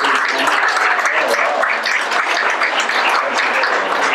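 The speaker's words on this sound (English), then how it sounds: "Representative Justin Rodriguez, and give him a big round of applause." An audience at a Westside neighborhood meeting gives Representative Justin Rodriguez a loud, sustained round of applause, dense and even from start to finish.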